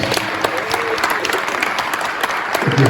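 An audience at a Martin Luther King Day gathering in Greenwood, South Carolina claps hands together, a loud, dense burst of applause from a crowd with faint voices mixed in.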